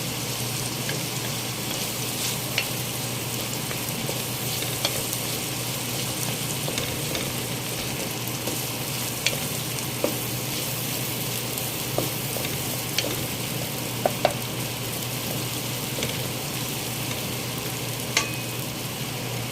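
Spices, bay leaves, cardamom and corn pepper frying in a pan for chicken biryani give a steady loud sizzle, with occasional sharp clicks of a utensil stirring against the pan and no talking.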